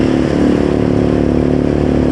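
Loud, steady motorcycle engine note held close up, a continuous throaty drone with a rhythmic pulsing under it, heard alone without talk.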